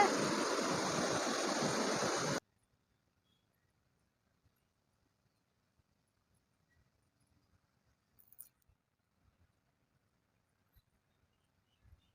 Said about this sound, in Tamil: தண்ணி பாருங்க எவ்வளவு அழகா வந்து கொட்டுது, அருவியில கொட்டுற மாதிரி சூப்பரா இருக்கு